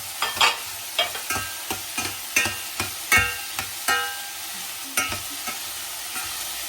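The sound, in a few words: sautéing cinnamon, cardamom and green chili in oil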